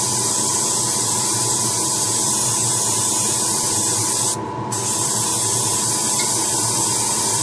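Spray paint hisses steadily onto plastic model parts of an Enterprise 1701-A, a continuous close spray with one brief pause midway and a faint electrical hum underneath.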